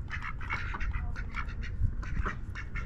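Ducks at Lake Mead quack steadily and close by, a busy overlapping chorus of raspy calls over low outdoor rumble.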